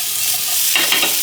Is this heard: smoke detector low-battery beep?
no